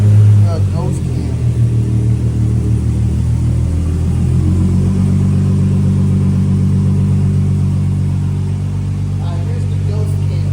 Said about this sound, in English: So now you get that rotary-esque ghost cam.